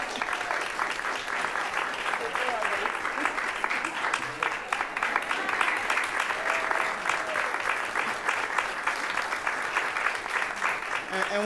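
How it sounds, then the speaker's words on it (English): A school board meeting audience breaks into sustained applause, a steady wash of clapping at an even level from start to finish, with voices faintly mixed in. "can you all stand and get some applause?"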